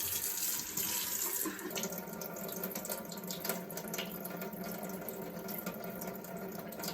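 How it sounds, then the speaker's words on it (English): Water runs and drips steadily into a household sink, a continuous close splashing wash with no pause, alone without any voices. "the clicking because of the water dripping in my sink"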